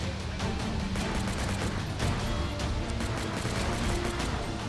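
Rapid gunfire from shooting zombies in the mobile game Unkilled, a dense, continuous barrage of loud shots with a few sharper bursts, heard alone without talk.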